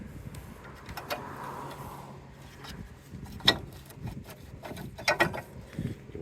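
Rear brake caliper coming off a Honda Civic with an electric parking brake, heard as close metallic clicks, clanks and scrapes, with sharper knocks partway through and near the end.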